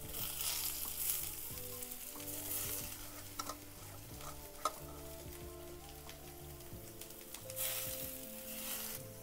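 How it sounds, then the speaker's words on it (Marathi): Pumpkin leaf stalks hit a hot tempering in the pan and sizzle steadily, a dense crackling fry with occasional stirring scrapes and light spatters, close by and without talk. "आता ही फोडणी केले ना, याच्यामध्ये टाकून घेऊया."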